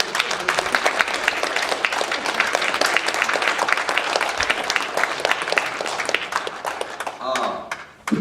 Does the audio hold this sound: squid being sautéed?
no